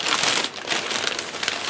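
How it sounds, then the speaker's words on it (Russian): A small plastic bag is crinkled and handled up close, giving a continuous rustle with bursts of sharper crackles and no talking. "Далее еще какой-то пакетик у нас тут."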